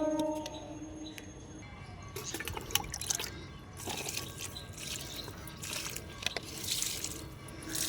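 Water is poured around the base of potted flowering plants, a faint trickling and splashing with soft drips, rising and falling in several quiet bursts.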